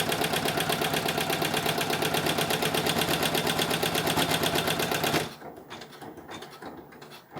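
A sewing machine stitching fabric held in an embroidery hoop, running in a fast, steady mechanical rhythm for about five seconds before stopping abruptly, leaving quieter handling noise.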